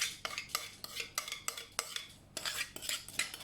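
A spoon scrapes wet carrot cake ingredients out into a mixing bowl, a quick run of sharp scraping and clinking strokes, close and fairly loud, with no talking.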